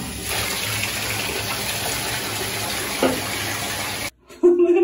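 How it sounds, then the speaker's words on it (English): Water gushing loudly and steadily from a regular shower head while rinsing a Mini Goldendoodle, running unbroken for about four seconds before cutting off abruptly, followed by a short clatter. "I'm going to fill it up with some clean water to rinse her with"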